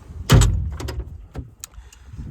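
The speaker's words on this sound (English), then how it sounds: "On to the next drawer here." A tool drawer on a truck service body slides open with a sharp metallic clunk, followed by lighter rattles and clicks, close and fairly loud, then fading quiet.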